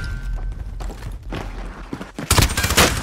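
Rapid gunfire rattles in the Call of Duty Warzone video game, with scattered shots and thumps giving way to a loud, dense burst of automatic fire at the end.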